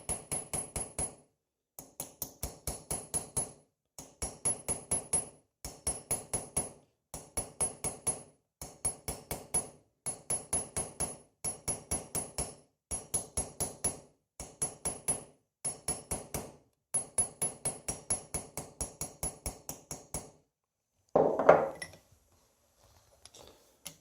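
An oval planishing hammer strikes brass sheet while the nose and cheeks of a brass dwarf figure are shaped, giving long runs of rapid, evenly spaced metallic taps in bursts with short pauses between them, close and loud, ending in a louder clatter.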